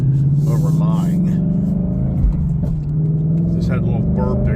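Car driving on an empty road at a car show meet, a steady engine drone with a brief exhaust burp near the middle; someone talks throughout over the engine.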